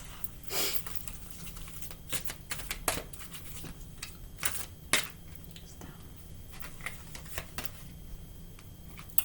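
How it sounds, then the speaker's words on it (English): Crystal oracle cards being shuffled by hand, a quiet run of soft flicks and papery riffles with occasional sharper taps, close but low in level and with no talk. "Right, I'm just going to shuffle these."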